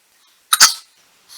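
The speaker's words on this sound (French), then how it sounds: "Ah, excusez-moi, je vais éternuer." A single quick, sharp allergy sneeze from a woman bursts out of near silence in two rapid pulses, followed by a faint breath.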